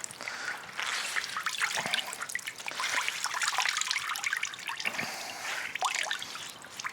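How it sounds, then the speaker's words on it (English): Water trickles and drips steadily from a soaked kendogi being wrung out by hand, a continuous close splashing patter with brief louder spills and no talking. "so it's not so hard for me to sort of wring it out as I pick it up"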